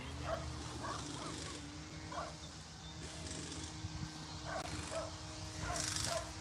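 A dog whimpering and yipping in short, faint, high bursts at an outdoor spot in Middle Tennessee, with low background rumble and occasional voices.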